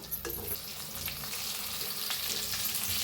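Stuffed brinjals fry in a hot pan with turmeric and red chilli powder, giving a continuous close sizzle with soft stirring and scraping sounds throughout and no talking.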